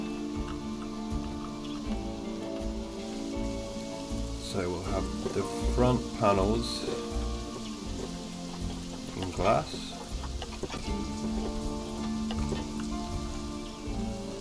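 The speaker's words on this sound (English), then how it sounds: "That rain is heavy. It is a rainforest" Heavy rain pours steadily over a rainforest habitat in the Planet Zoo video game, a dense continuous hiss mixed with game music, with someone talking over it throughout.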